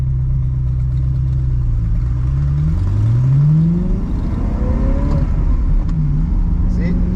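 Car engine on a coastal highway, revving and dropping as the manual gearbox is forced hard into second with grinding-prone synchros. The pitch climbs and falls in sweeps under steady road rumble, with a voice speaking at times.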